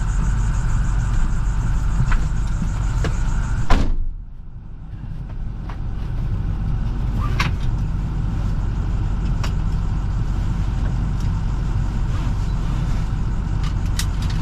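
A 2015 International TerraStar snowplow truck runs with a steady low engine rumble, a sharp clunk and brief dip partway through, then continuous idling drone.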